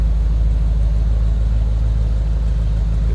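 The big block engine of a 1962 Chevrolet Impala SS two-door hardtop idles with a deep, steady, loud rumble, heard up close and unbroken, with no talking.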